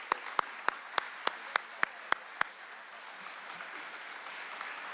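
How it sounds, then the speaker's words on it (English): Applause for students at a senior honors night begins with about nine loud, evenly spaced claps that stop after roughly two and a half seconds, followed by a low, steady crowd murmur. "One more round of applause for these deserving students"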